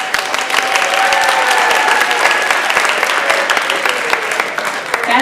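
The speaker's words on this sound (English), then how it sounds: "So when the applause sign comes up" An audience at a children's Christmas show dress rehearsal claps steadily and loudly on cue, a dense, even wash of applause that holds for several seconds with no break.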